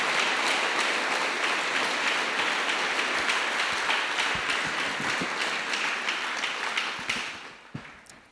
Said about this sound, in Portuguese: Uma forte salva de palmas para a palavra de Deus.